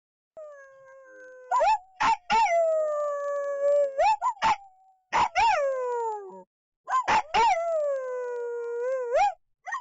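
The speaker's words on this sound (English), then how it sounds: "Are they howling? They're howling," Several dogs howl inside an RV, long wavering howls rising and falling in overlapping bursts with brief gaps, loud and close, with no talking.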